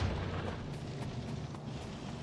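Massed gun turrets fire in Factorio on a deathworld map with Rampant enemies, a dense, steady rumble of rapid overlapping shots heard at a distance, continuous and even throughout with no voices.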